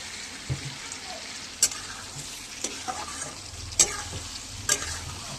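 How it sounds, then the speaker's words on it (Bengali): Chicken frying down in oil in a pan for a Bengali kasha, a soft continuous sizzle broken by a few sharp spatula scrapes and taps, close and without talk. "চিকেনটা কষা হচ্ছে, দেখুন কিরম তেল ছেড়ে আসছে"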